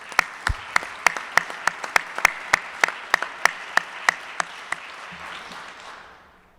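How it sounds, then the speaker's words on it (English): A Rotary Club meeting audience claps for new board members, with distinct, sharp claps ringing out in a steady rhythm over a softer bed of applause that thins and fades toward the end. "Let's give them all a round of applause."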